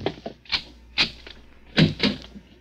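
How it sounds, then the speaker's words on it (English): In a suspense radio drama, a door is handled with a series of sharp wooden knocks and clacks: a few scattered taps, then a louder cluster of close thumps and latch clicks near the end. "Open the other door, Joe."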